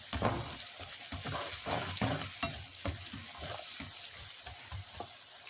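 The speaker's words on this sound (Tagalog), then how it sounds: "ilalagay ko na yung bawang dito para maigisa natin" Garlic and onion sautéing in a pan, a steady close sizzle with repeated stirring strokes in an even rhythm, fairly quiet overall and with no voices.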